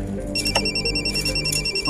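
A telephone rings with a sharp, electronic repeating tone that starts partway through and pulses steadily near the mic, over a background of ambient TV-scene sound.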